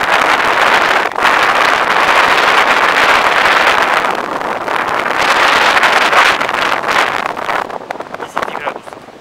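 Strong, warm wind roars steadily against the microphone on the Yoshida Trail above the fifth station of Mount Fuji, Japan, a loud, continuous rushing that eases slightly toward the end.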